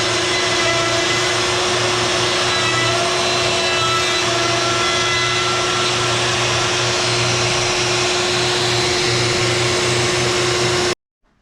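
A Shaper Origin CNC router cuts holes into an MFT table top, a loud, constant high whine with a steady hum running unbroken for about eleven seconds, then stopping abruptly.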